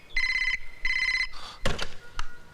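A telephone bell rings in two long trilling bursts close by, followed by a couple of sharp handset knocks as the receiver is picked up, with no talking.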